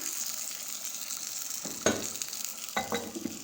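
Beef kunna gently cooks in a pot, a low steady sizzle with two sharper scraping clicks partway through.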